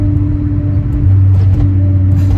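A 1990 VW Jetta Coupe VR6 engine idling, heard from inside the car as a steady low rumble with a firm hum that deepens slightly partway through, loud and close with no talking.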